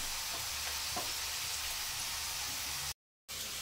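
Sweet potato pieces deep fry in hot oil for chaat, a steady, moderately quiet hiss and bubbling crackle that cuts out briefly near the end before resuming.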